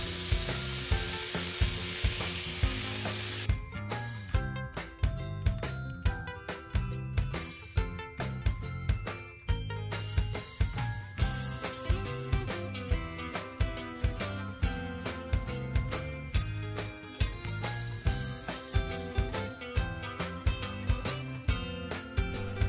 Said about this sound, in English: I just place it in my electric skillet like so and let it fry.